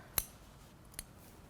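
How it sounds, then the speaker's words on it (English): Scissors trim sewing threads on a pair of trousers at a sewing machine, two quick, close snips with a short pause between them. "trim those threads"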